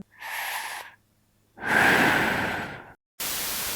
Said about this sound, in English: I'll breathe.